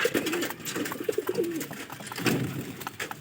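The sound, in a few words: pigeons cooing near their coop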